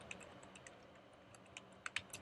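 Fingers tap out short bursts of keystrokes on a computer keyboard while a name is entered in Xcode, producing faint, close clicks that grow sharper near the end.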